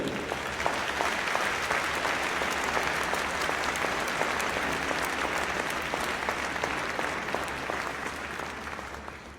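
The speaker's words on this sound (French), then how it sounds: "Je vous demande bien d'applaudir très fort le cardinal Joseph de Keyser." Conference audience applauding a cardinal in a hall, many hands clapping in a sustained, even roar that holds for several seconds before easing slightly at the end.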